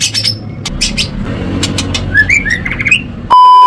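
A male songbird calls loudly and close, a series of sharp chirps and rising whistled notes in quick bursts, ending with an abrupt electronic tone.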